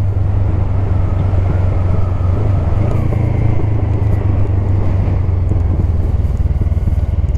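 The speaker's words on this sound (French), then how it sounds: "Voiture." A car passes a motorcyclist riding along a rural road above a canal, its sound blending into the steady, loud engine rumble and wind roar of the moving motorcycle, with no clear separate pass-by peak.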